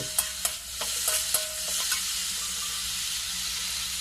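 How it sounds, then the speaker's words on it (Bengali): Spices, salt and sugar sautéing in a pan for rohu fish curry, a gentle hissing sizzle with a few sharp spoon clinks early on, then settling into a steady low fry. "দিয়ে মিনিট 2-এর মতো কষে নিতে হবে"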